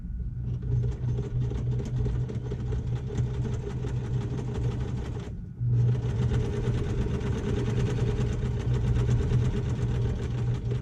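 A sewing machine stitching fabric at the corner of an organizer, running as a steady close mechanical hum and rattle that stops briefly in the middle before carrying on.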